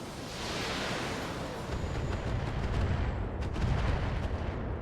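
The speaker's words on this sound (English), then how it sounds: "I mean, it's mortars." Mortar artillery fire in the BattleTech video game: a dense, continuous rumble of blasts and surf-like roar that builds in loudness, with sharp cracks near the end.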